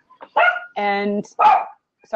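A dog barks a few short, close yips in the background while a person speaks over them during a talk about indie film festivals.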